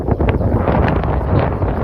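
Steady wind blowing hard across an open microphone on a rooftop, a continuous low rumbling roar with gusty buffeting throughout.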